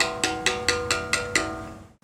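Hand-carving stone with sculpting tools, as by a Tuscan sculptor: six evenly spaced sharp chisel strikes ringing metallically, each tapping out quickly, close and alone.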